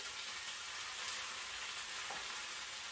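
Onions and peppers saute in a pan, giving a steady, even sizzle and crackle at moderate level throughout, with a faint clink of a utensil partway through and no talk.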